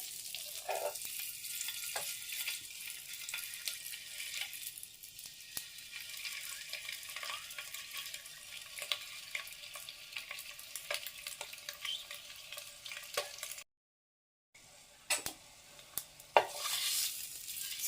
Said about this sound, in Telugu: సో ఎగ్స్ అయితే బాగా ఫ్రై చేసుకోవాలి